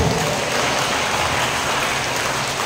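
A church congregation claps hands together, a dense steady patter of many palms kept up at even loudness for the whole stretch, with no voices over it.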